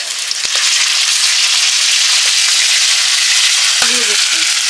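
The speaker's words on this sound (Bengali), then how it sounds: "সুন্দর পেঁয়াজটা একটু ভাজি ভাজি হয়ে গেছে, এখন আমি জিরা আর শুকনো লঙ্কা বাটা দিয়ে দিচ্ছি" Onion with cumin and dried red chilli paste sizzles loudly and evenly in a pan for a spicy lote fish curry, with a couple of brief utensil clinks against the pan.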